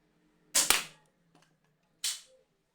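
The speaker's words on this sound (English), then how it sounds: "let's start the firing test. Alright, firing 14 feet on the center target." A Nerf Alpha Strike Fang QS-4 blaster fires darts at a center target 14 feet away. There are two sharp, snappy pops about a second and a half apart, with a faint tap between them, in a quiet room.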